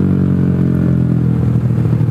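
A motorcycle engine with a cracked, leaking gasket that seeps oil from the cylinder block runs loud and close at a steady idle, a rough continuous drone with clattering pulses.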